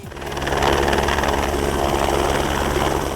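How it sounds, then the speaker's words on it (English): A rescue helicopter roars steadily overhead, its rotor thudding in a fast, even chop over a broad engine whine, loud and close throughout. "Helicopters are the fastest and sometimes the only way to save lives"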